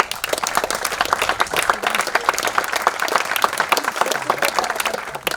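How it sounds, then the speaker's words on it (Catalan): An audience applauds Catalan schools and teachers at a commemoration ceremony for the Pact of the Vigatans: dense, continuous clapping from a large crowd, full and even throughout. "Voldria demanar un fort aplaudiment per l'Escola Catalana i els mestres"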